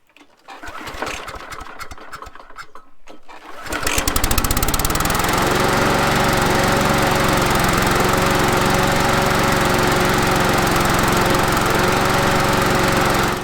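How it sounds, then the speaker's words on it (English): A Briggs & Stratton engine on a Victa lawnmower is pulled and starts after a few seconds of cranking and rattling. It then settles into a loud, steady idle as it warms up. "We'll also warm up the engine"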